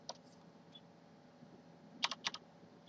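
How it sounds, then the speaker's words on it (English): Quiet typing on a computer keyboard while entering a name into an Excel 2010 spreadsheet: a single click, then a short quick burst of several keystrokes near the end, over faint room hiss. "So I'm going to just start typing in the name of that range."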